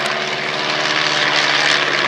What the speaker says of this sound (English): Two-seat training and touring aircraft.